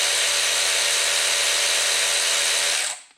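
A DeWalt DCF513 20V 3/8-inch cordless ratchet spins freely under power with a steady, loud, high-pitched motor whine that holds for nearly three seconds before the tool stops and the sound cuts off.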